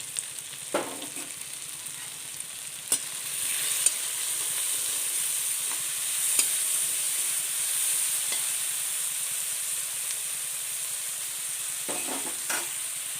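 Curry leaves and salt sizzling in a pan of hot oil while bitter gourd is being prepared, a steady bright frying hiss with a few sharp crackles and stirring clinks, no talking.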